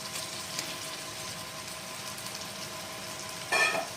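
Chicken pieces go into a spice paste sizzling in oil for kosha, a steady soft frying hiss that jumps to a sharper, louder sizzle near the end, with no talking.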